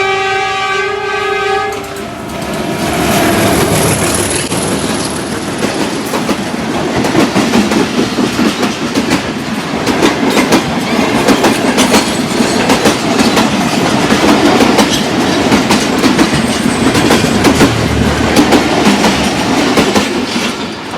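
The Rehman Baba Express passes and overtakes on a Pakistani rail line: a loud horn blast opens, then a sustained, close rumble with rapid clickety-clack of wheels over rail joints.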